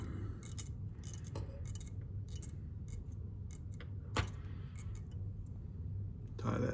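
Small scissors snip thread while a fly is being tied, with a few quick metallic clicks and snips over a steady low hum.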